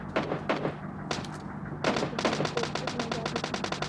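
Gunshots ring out in PUBG Mobile Lite, a string of sharp, repeated cracks in quick bursts, with a denser volley toward the end over a steady low game hum, moderately loud and fairly close.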